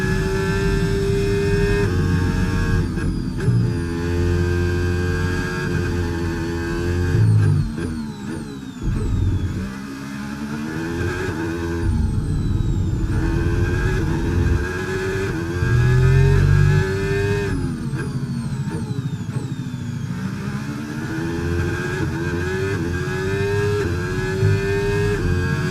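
An F1 car in the F1 25 video game screams around the track with a loud, continuous high-revving engine, rising through gears with brief dips on upshifts and downshifts, heard close and alone.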